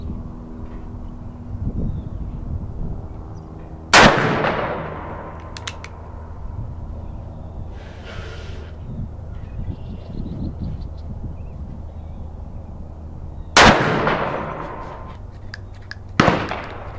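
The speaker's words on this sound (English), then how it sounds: "I'll shoot a couple offhand now" Ruger .44 Magnum revolver fired offhand outdoors while whitetail deer hunting: three loud, sharp gunshots, two of them close together near the end, each cracking out with a decaying echo over quiet outdoor ambience.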